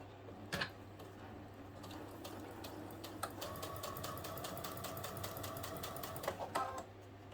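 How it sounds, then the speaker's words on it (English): A sewing machine stitches through stiff heading tape fabric in a fast, even run of needle strokes lasting several seconds, close and clear, after a couple of brief clicks. "we can just stitch down close to the top there"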